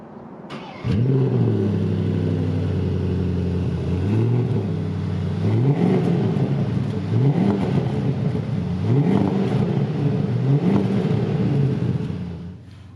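A Porsche Panamera GTS engine catches with a sharp start, settles into a rumbling idle, then blips through a series of evenly spaced revs that rise and fall before cutting off, close and loud with no talk.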